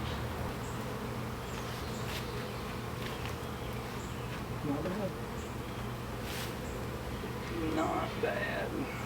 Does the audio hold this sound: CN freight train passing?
no